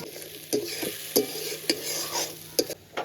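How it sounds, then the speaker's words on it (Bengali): Spices with chopped tomato, salt and red chilli powder being fried and stirred in a pan for chana masala, a soft steady sizzle broken by regular scraping knocks of the spoon. "টমেটো কুচিটা দিয়ে খুব ভালো করে মশলাটা কষিয়ে নেব"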